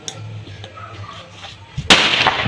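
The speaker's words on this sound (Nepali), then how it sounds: "बल्ल एउटा पड्काएँ मैले" A firecracker set off at a birthday gathering bursts with one sharp, loud crack near the end, after a stretch of soft background murmur.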